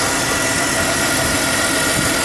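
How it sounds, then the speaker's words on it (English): A 2000 BMW 528i engine idles close up from underneath, a loud, steady mechanical hum and whir with no voices. "I'm going to let you listen to underneath the engine real quick."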